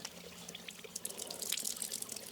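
Water being flushed out of a backpacking water filter on a trail, a faint thin trickle and splash of dribbling water, quiet and close.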